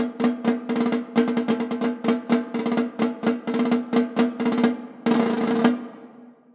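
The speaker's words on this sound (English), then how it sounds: "we'll let the snares hang below the snare drum, and it sounds like this." Hollow, ringing orchestral snare drum hits with the snares off, a clear tonal boom and no buzz, a series of strokes in a pattern ending in a short roll, close and unaccompanied.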